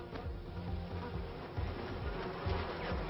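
Honey bees buzzing around flowers, a soft continuous drone of insect wings with faint fluctuating hum, steady and low in level with no voices present.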